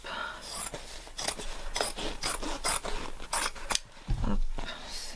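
Scissors snip through fabric scraps in a series of crisp, close cuts at an irregular pace, followed by a softer handling rustle near the end.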